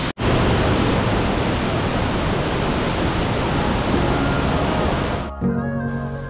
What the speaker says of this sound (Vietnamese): Khi tiếng nước đổ xuống ngày một rõ ràng, ào ào gầm rú bên tai